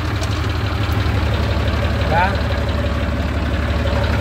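A small 25 hp tractor engine idles and chugs steadily up close, a loud, even low rumble throughout, with a brief voice spoken over it.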